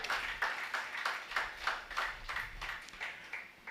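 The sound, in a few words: congregation clapping for the gospel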